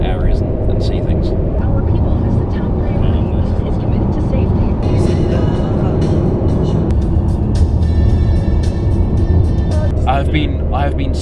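A car driving on a road in the USA, a steady loud engine and road rumble running continuously throughout, with people talking over it.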